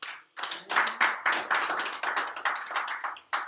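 A church congregation claps together, a close, dense burst of hand claps that starts abruptly, keeps going unevenly and fades in waves, with no talk over it.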